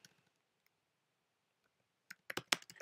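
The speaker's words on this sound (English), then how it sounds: "I'm going to just go to Google, and I'm going to type in creation" Search terms typed on a computer keyboard: after a near-silent stretch, a quick flurry of sharp, close key clicks lasts under a second, with no voices.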